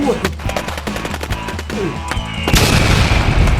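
Gunfire in the Roblox video game comes as rapid, loud bursts of shots. The bursts end in a heavier, sustained blast of noise.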